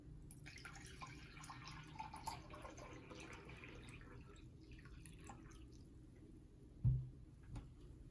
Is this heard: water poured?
yes